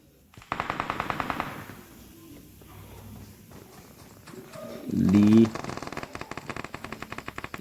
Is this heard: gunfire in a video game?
yes